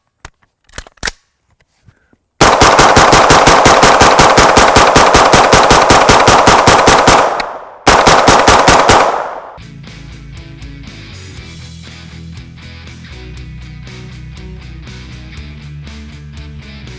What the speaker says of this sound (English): A review isn't complete without a mag dump.